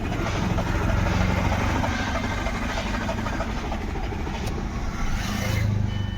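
A Skoda Rapid with a misfire fault, starting problem and blinking glow plug light, its engine running loud and close with a rough, steady rumble that rises near the end as it is revved.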